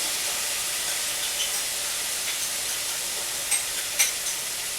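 Coconut milk is stirred into kitcharee cooking in a pot, a soft steady sizzle and hiss with a few faint scraping clicks of the stirring.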